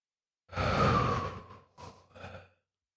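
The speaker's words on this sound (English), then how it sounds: "Nice deep breath." A single long, deep breath taken in and sighed out slowly, followed by two shorter breathy exhales, close and quiet with no talking.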